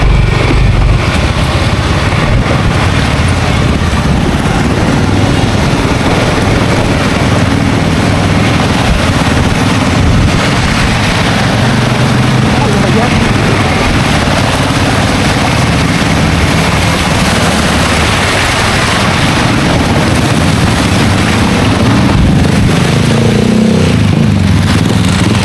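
Motorcycle engines running steadily nearby, a loud continuous droning rumble that persists throughout with no pauses.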